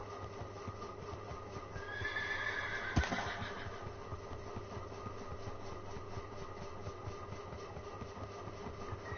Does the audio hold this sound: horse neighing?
yes